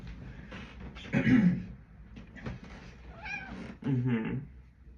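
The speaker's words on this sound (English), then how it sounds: "Cute little cat, you're not allowed on that piano." An indoor house cat near a piano gives two drawn-out meows close to the microphone, separated by quieter shuffling, with no talking.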